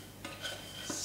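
A spoon slowly stirs thick frozen hot chocolate paste in a pot on the stove, giving faint, soft scraping strokes in a quiet kitchen.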